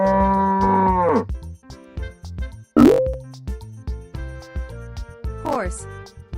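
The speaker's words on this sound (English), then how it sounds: "Cow." A cow gives a long, loud moo near the start, then a shorter low call in the middle, set against a bouncy cartoon backing track with plopping accents, in a children's animal-sounds lesson.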